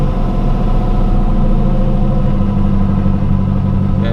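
A turbocharged Camaro engine runs up close at a high idle, a loud, steady rumble that rises slightly with added revs while it charges the battery.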